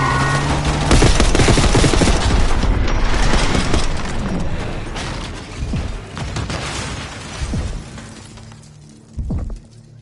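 Heavy gunfire in the video game Call of Duty Black Ops 6 rattles in dense, loud bursts mixed with booms and shattering impacts, fading into scattered shots and a final thud near the end.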